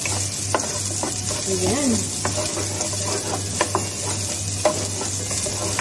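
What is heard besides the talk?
onions frying in oil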